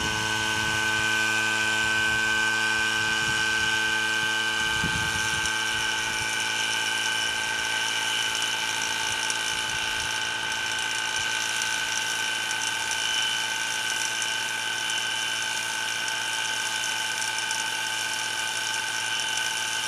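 A vacuum pump evacuating a supersonic vacuum cannon runs with a steady mechanical drone and whine, broken by a few brief clunks near the start, otherwise continuous and loud.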